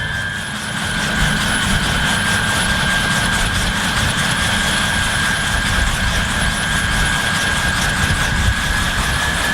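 Rotary Rocket ATV test vehicle with a rotor salvaged from a crashed helicopter, a loud continuous rotor and engine drone with rapid blade chop and a high whine, steady throughout.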